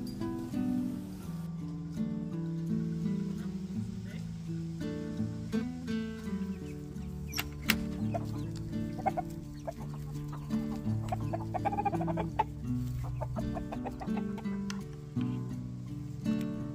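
Several chickens on a homestead cluck and murmur continuously at close range, with occasional sharper squawks standing out over the steady flock chatter.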